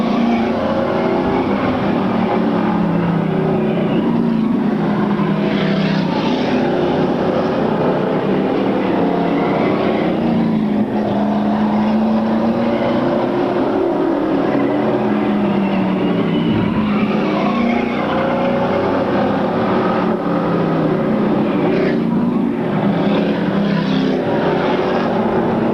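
Stock cars racing around a track with the number 7 Oldsmobile leading, a loud continuous roar of engines sweeping past, swelling and fading in waves for the whole stretch with crowd and track noise underneath.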